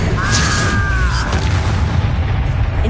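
A Confringo explosion spell cast in Hogwarts Legacy, a loud booming blast with a brief whistling tone over a rumbling, crackling backdrop that fades after a second or so.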